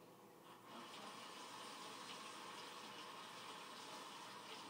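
Hot water runs steadily from a kitchen tap while a cup is rinsed out, a soft continuous hiss and splash after a brief quieter start, with no talking.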